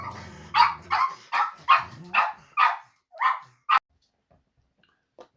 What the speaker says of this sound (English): we've got dogs and cats going on here